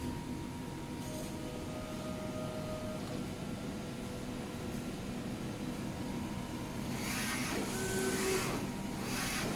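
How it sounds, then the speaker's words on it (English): DTF printer running a print head vertical calibration diagram: a steady mechanical hum and whir with a brief higher-pitched whine partway through and brighter hissing carriage passes near the end, continuous and close. "Then the printer starts to print the diagram out."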